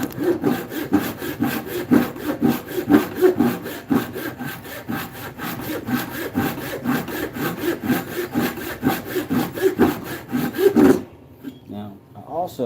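A hand saw cuts through wood in fast, regular pull strokes, a steady rasping rhythm of about two strokes per second up close, stopping abruptly near the end.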